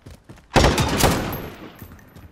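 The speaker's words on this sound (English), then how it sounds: "they're shooting at me" A single loud burst of gunfire in Call of Duty: Modern Warfare 3 cracks out close by, ringing briefly and fading after a couple of seconds, with faint shots before it.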